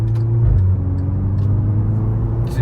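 VW Scirocco R being driven, a steady low engine drone and road rumble from inside the car, dipping slightly partway through with faint clicks near the end.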